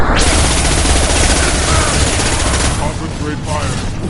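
Heavy, continuous gunfire from the video game Mass Effect 2 Legendary Edition pours out in a loud, unbroken fusillade of rapid shots, thinning slightly near the end.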